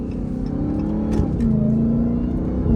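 A Dodge Charger Hellcat engine drones and revs steadily up close on downshifts at night, with faint exhaust-pop crackle partway through; no clear talking.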